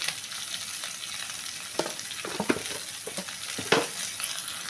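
Onions sautéing with salt in a pan for a homestyle Kerala prawn curry, a steady close sizzle broken by several sharp scraping stirs of a spoon against the pan.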